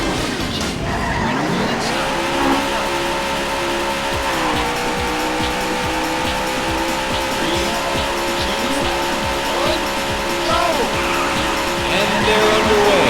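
Race cars roar off the line in a World of Warcraft race on the Shimmering Flats, a dense, loud, continuous engine drone with squealing tires and rising revs that stays steady throughout.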